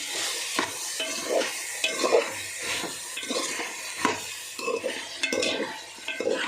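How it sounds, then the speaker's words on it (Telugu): Eggplant and potato curry being stirred in a hot pan, with repeated scraping strokes of a spoon over a continuous sizzle and hiss. "మనం అడగంటకుండా తిప్పుకుంటూ ఉండాలి"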